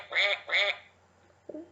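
A person's voice imitates a duck's quack, two loud, close calls in quick succession during a children's animal rhyme, followed by a short, softer chime.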